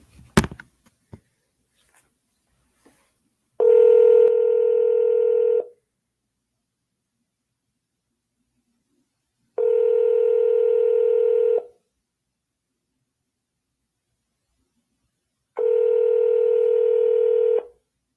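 Touch-tone keypad beeps on a telephone while working through an automated school phone menu: three sustained DTMF tones, each about two seconds, evenly spaced by long silences, loud and clear with no talking.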